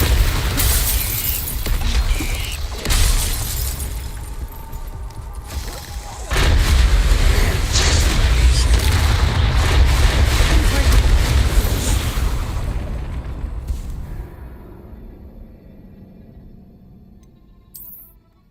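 A Bombarda blasting spell goes off in a video game as a loud, close explosion with a shattering crack. It swells into a long rumbling roar that slowly fades out over many seconds.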